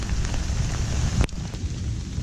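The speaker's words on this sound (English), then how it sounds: "Just waiting for the rain to subside." Steady rain falls around a shelter on Pulau Ubin where a fire burns, a dense even hiss with one sharp knock partway through and no voices.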